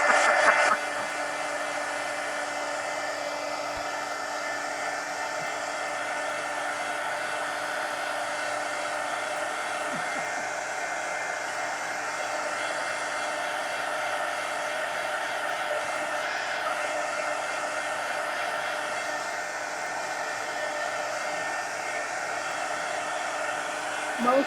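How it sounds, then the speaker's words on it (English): A heat gun blows steadily to dry paint on a toad painting, a constant close whooshing hum with no change for its whole length. "let me dry this with the heat gun real quick"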